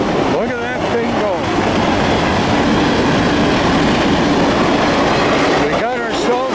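A fast CPKC freight train rushes past at a train meet, a loud continuous roar with rumbling wheels and rhythmic clatter, while brief voices come through near the start and end.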